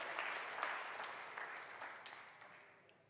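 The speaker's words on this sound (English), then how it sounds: "give the Lord a hand clap" Church congregation clapping for the Lord during a sermon, a soft, moderately distant patter of many hands that gradually fades out.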